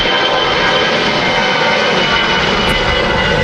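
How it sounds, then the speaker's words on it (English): EasyJet jet airliners move at Manchester Airport, a loud, steady engine roar filling the whole moment without a break. "Three easy jets on the move, one on the way in, two on the way out."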